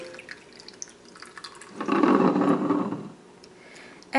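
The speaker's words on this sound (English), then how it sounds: "So straight through my double strainer it goes." Strawberry cocktail poured through a double strainer into a glass, a short steady trickle of liquid rising for about a second and then tapering off, close and fairly quiet against a faint room background.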